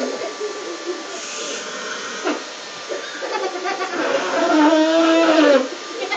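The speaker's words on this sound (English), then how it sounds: "I don't think the vacuum likes that." A Dyson vacuum cleaner runs close by with a steady whirring hiss, its pitch rising and straining near the end as something gets sucked against the nozzle, with brief voices and chuckles over it.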